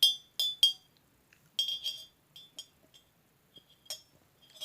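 A glass cup clinks in a handful of sharp, bright taps, some spaced apart and some in quick pairs, close and clear with quiet gaps between them.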